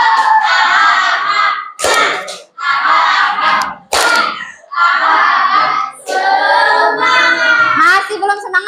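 Children in an Indonesian classroom chant loudly together while clapping in a set rhythm, with short pauses between phrases and a few sharp claps standing out.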